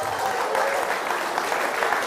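A live audience at a comedy or speaking event claps steadily and evenly, a dense wash of hands filling the room from start to finish.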